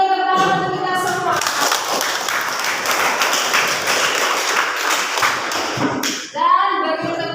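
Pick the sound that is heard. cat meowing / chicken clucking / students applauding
students applauding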